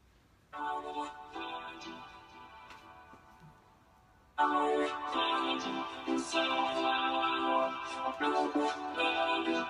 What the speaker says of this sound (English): a second track with a vocoder on it, so we got some harmony vocals in addition to the lead vocals